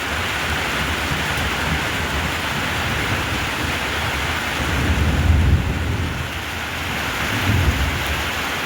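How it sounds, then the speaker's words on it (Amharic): Heavy rain pours in a dense, steady roar with low thunder rumbling through it, swelling briefly louder twice, with no voices. "በስማም ዝናቡ ባሰበት ማለት ነው"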